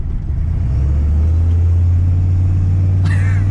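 An old Ford OBS diesel pickup truck engine rumbles low and heavy while driving, steady and loud, with a brief higher tone cutting in near the end.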